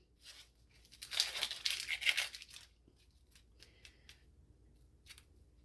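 Dry onion skin peeled off by hand for salsa, a papery crinkling and tearing that swells into a louder burst of rustling, then fades to a few short soft crackles near the end.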